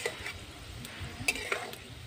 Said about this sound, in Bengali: তো আস্তে আস্তে জ্বালানি দিয়ে বিস্কুটগুলো আমি ভেজে নেব।